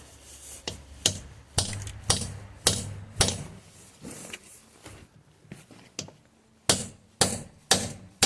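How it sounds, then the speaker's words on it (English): A locking wheel nut remover hammered onto a sleeved wheel nut gives a series of about a dozen sharp, ringing metallic strikes at an uneven, deliberate pace, close and fairly loud, with short pauses between blows. "so we can just hammer this on."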